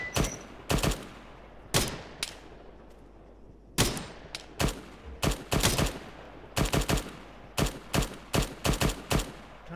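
Sharp bursts of gunfire in the military game Arma 3, firing irregular single shots and quick volleys with ringing echoes. The shots are loud and fairly close, separated by short quiet gaps, with no talking.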